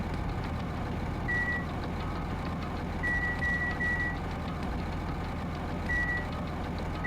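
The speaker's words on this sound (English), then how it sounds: "The first thing I noticed was the roaring engine of a nearby truck." A truck engine rumbles steadily at close range in the Danganronpa 2 video game, a low continuous drone with a few short, high electronic beeps repeating over it.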